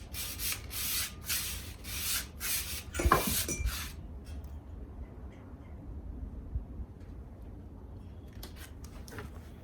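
Rough, rhythmic scratching strokes of sanding a Redline BMX bike during restoration, about seven quick passes, then it stops and only faint room noise remains.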